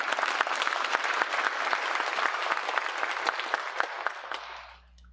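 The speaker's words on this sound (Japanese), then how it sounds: "拍手をお願いいたします。" An audience in a hall in Akune, Japan, claps steadily during a public candidates' debate for a mayoral election. The dense, even applause holds for several seconds and then quickly dies away.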